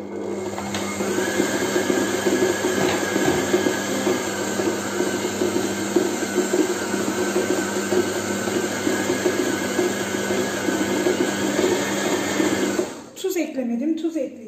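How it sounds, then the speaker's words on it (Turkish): A kitchen machine kneads sourdough made with siyez flour and kefir in a loud, steady motorised whir. The even drone holds for about thirteen seconds, then cuts off, leaving a brief rattle. "Şimdi bunu makine yerleştiriyorum. Ve önce düşük ayarda, daha sonra hızlı ayarda, yüksek ayarda toplam 5-6 dakika yoğuruyorum."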